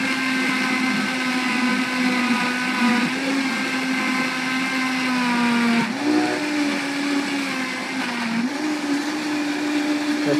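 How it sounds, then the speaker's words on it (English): Blender whirring through whole pineapple, orange, spinach and kale, a loud continuous motor whine that dips and shifts pitch as the tamper pushes the load down, running alone for ten seconds. "we do need to use our tamper device just to make sure everything does get pushed down towards the blade."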